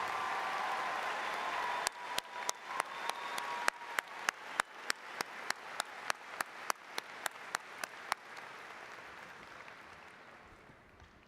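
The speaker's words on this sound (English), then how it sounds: "Can we have another round of applause for all of our master's degree recipients?" Audience at a university spring commencement applauds master's degree recipients, a faint, diffuse wash of clapping with a run of sharp, evenly spaced claps near the microphone in the middle that fades out.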